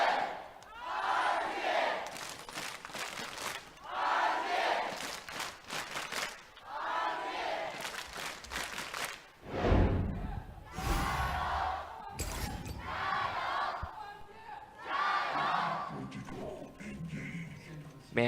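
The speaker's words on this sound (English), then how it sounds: "the crowd cheers on their two teams" An esports arena crowd cheers for two League of Legends teams at an LPL summer split match, broad roaring swells rising and falling for the whole stretch, loud and fairly close.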